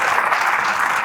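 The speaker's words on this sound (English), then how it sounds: "Round of applause for Malo." Brief, dense burst of audience applause filling a room, steady and fairly loud for about a second.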